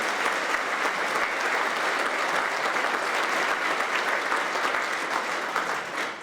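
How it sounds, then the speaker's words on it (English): An audience at the Winchester Citizen of the Year 2014 event gives a sustained round of applause, a thick, even wash of clapping from a large crowd that stays loud throughout and fades slightly at the end. "Let's give a big round of applause."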